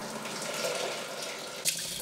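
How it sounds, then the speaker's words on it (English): Eggplant seeds sit in a sieve being rinsed under a running kitchen tap, giving a steady broadband rush of flowing water with a brief splashy spike near the end and no talking. "Take the good seeds and clean them in the sieve under running water."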